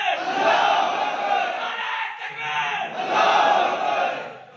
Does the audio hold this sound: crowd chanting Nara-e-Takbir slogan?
yes